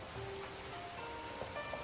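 Night rain in the Tower of Fantasy game, a steady hiss of drops pattering on surfaces, continuous and even, with a few faint tonal game sounds over it.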